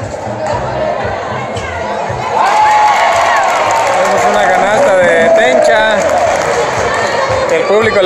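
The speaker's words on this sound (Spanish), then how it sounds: "El público le aplaude." Crowd at a women's state final basketball game cheering and applauding, a loud, dense roar of voices and clapping that swells midway, with a commentator talking over it.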